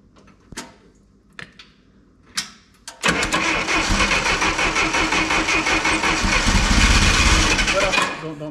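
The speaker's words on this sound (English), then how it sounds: "Don't grind it like that when its motor spins faster than the starter." An engine is cranked with its starter on a jump-start pack. A few sharp clicks and knocks come first, then the engine abruptly catches into a loud, steady, throbbing run that continues for several seconds.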